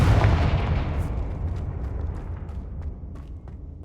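The Confringo fire-blast spell in the Hogwarts Legacy video game bursts in a loud, close boom that rolls into a long, fading rumble with a few faint crackles.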